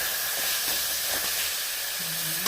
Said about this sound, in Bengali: মশলাটা প্রায় ভাজা হয়ে গেছে, একদমই ভাজা হয়ে গেছে